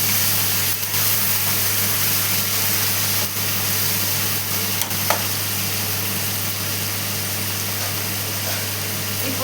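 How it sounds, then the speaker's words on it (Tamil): Tomatoes sautéing in a pan for masala kulambu, a continuous close sizzle with a steady low hum beneath and occasional light scrapes of stirring. "இப்போது தக்காளியை நல்லா வதக்கி விட்டுக்கலாம்."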